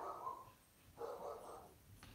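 A pet dog barks twice indoors in short, fairly loud bursts about a second apart, then a brief faint yip, with no talking.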